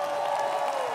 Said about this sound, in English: Give Jesus one more hand clap if you don't mind.